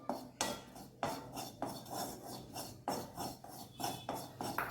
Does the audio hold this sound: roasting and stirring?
yes